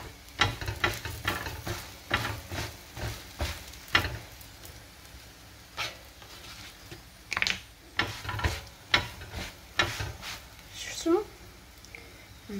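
Trid pastry frying in a pan and being turned to cook the other side: steady sizzling runs under rhythmic scraping and clatter from the utensil, close by, while someone talks over it.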